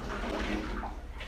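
Water rushes and gurgles as a toilet bowl drains, a steady close-up wash of sound lasting a little over a second with no talk.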